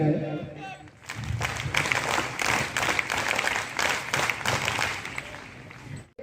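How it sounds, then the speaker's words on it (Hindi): Audience at an indoor event applauds to welcome a guest, a burst of dense hand clapping that starts abruptly after a brief voice, holds steady for several seconds, then fades and stops. "जोरदार ताली से स्वागत किया जाए"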